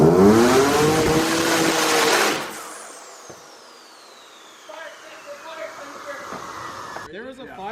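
A twin-turbo Nissan 370Z engine screams loudly at the rev limiter for about two seconds, then drops away to a quieter rumble with a few brief engine bursts near the end.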